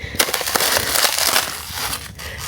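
Crisp, crunching footsteps on frozen ground, steady and close, with a brittle crackle to each step and no talking.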